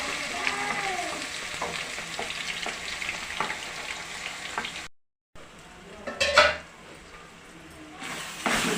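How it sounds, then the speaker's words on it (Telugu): Onions hit hot oil in a pan and sizzle steadily with a dense crackling hiss, stirred now and then; a brief silent gap and a few louder scrapes of the spoon against the pan follow. "ఇప్పుడు మనం దీంట్లో ఉల్లిపాయలు వేసేసుకుందాం."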